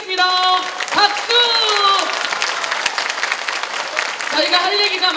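Audience at a political lecture applauding, a steady burst of clapping from a crowd heard alongside a speaker's voice at the start and end.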